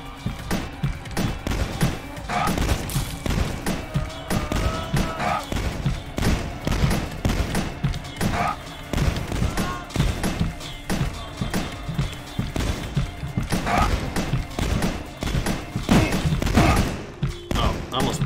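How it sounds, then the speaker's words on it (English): Rapid gunfire aimed at a crocodile in the video game Dusk, dense bursts of loud sharp shots repeating irregularly for many seconds, close and dominant with brief gaps. "I'm gonna spend all of my crappy ammo on the crocodile."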